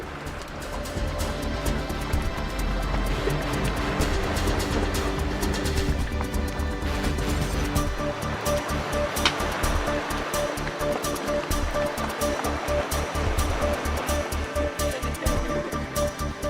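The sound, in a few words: icebergs floating, bubbles popping, ice grinding in Antarctica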